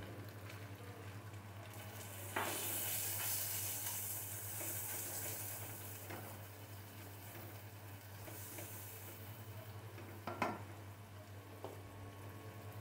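Beef liver bhuna masala of coriander and chili frying with a little water in a pan, a steady soft sizzle and hiss with a few sharper clatters, close and alone with no talking.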